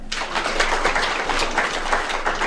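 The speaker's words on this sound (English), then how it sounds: "Can we give them a clap?" Clapping from an audience at an International Women's Day event, a steady wash of many hands over a few seconds with no talk on top.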